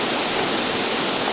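A waterfall on a tour in El Salvador roars as a steady, loud, broadband rush of falling water, close and unbroken, with no voices.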